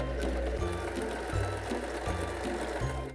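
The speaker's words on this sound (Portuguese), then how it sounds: "pontinho zigue-zague, ele é usado para fazer o arremate dos cantinhos, como se fosse uma overlock, mas não é" A Singer Start 1306 sewing machine runs a zigzag finishing stitch, a steady mechanical whir with rhythmic low thumps repeating about twice a second, close and continuous with no talk.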